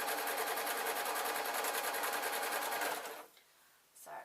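A sewing machine stitches trouser lining in a fast, steady mechanical whir for about three seconds, then stops, leaving a few faint handling sounds.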